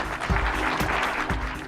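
An audience at a Scania driver competition applauds, with dense, steady clapping at close range that fills the whole moment.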